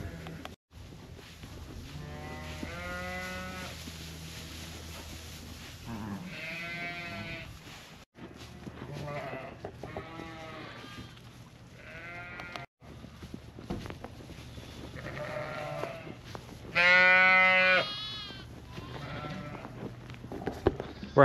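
Sheep and lambs bleating in a farmyard during lambing season in Canada, with repeated harmonic calls rising and falling at close range over a steady low background hum.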